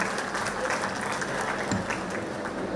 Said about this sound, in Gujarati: તો ફરીથી એકવાર જોરદાર તાળીઓના ગગડાથી આપણે વધાવીએ.